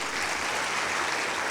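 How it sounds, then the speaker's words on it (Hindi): Audience hands clap in a thick, continuous wash at a spiritual class gathering, a short steady burst of applause with no talk on top. "ताली तो बजाओ एक बार।"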